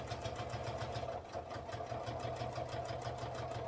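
Sewing machine stitching a 12 by 14.5 inch laptop sleeve, a fast steady whirring chatter of needle strokes running continuously and close, with a brief dip midway.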